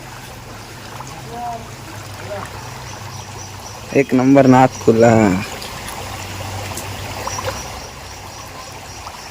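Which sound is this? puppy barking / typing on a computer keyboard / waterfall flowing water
waterfall flowing water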